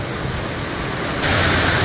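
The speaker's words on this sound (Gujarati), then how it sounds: "ફૂલ પવન સાથે વરસાદ, એકદમ જોરદાર વરસાદ આવી રહ્યો છે" Torrential rain driven by strong wind pours down in Surat over a flooded rooftop terrace, a dense close hiss that swells louder partway through.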